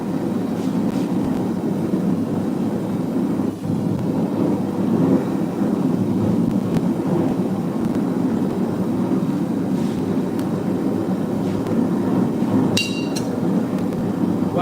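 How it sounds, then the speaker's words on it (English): A blacksmith's forge roars steadily while heating metal for forge welding, a continuous low rushing drone that stays even throughout, with a brief high metallic clink near the end. "Now it's just in the forge, heating all the way up so I can forge weld it."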